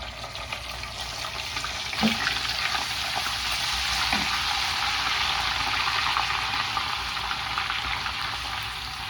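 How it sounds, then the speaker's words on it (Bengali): Dried chilies and ginger paste frying in oil for a Bengali mango pickle, a steady close sizzle with a couple of soft stirring knocks. "শুকনো মরিচের এটা একটু ভাজবো।"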